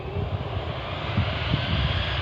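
A light airplane's piston engine drones at full power during take-off at Aldergrove airfield. The roar is steady, loud and close, and no one speaks.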